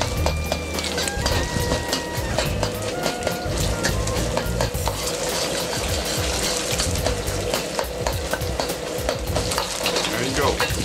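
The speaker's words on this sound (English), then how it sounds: "And sear this beef." Beef searing in roughly two-thirds of a cup of hot oil over high heat for beef with broccoli, a loud, steady, crackling sizzle that continues throughout with some stirring noises underneath.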